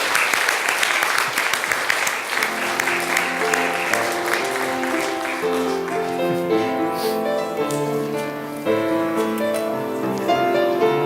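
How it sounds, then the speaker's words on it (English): A church congregation at a Christmas Eve family candlelight service claps in steady applause, with sustained tones from a keyboard or organ entering partway through and ringing under the clapping. "how about one more round of applause for our guys?"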